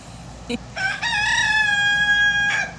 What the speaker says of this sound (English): So I might have to contend with my rooster.